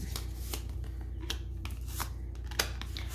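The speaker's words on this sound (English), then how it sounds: "I've been shuffling forever." Tarot cards are shuffled by hand in a quick rhythm of soft riffling and slapping strokes. A low steady hum runs underneath.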